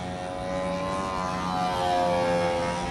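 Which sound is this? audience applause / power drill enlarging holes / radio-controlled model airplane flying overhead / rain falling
radio-controlled model airplane flying overhead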